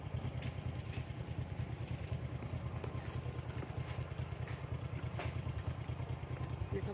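A motorcycle engine idles close by with a steady, low throbbing rumble that runs unbroken and evenly from start to finish.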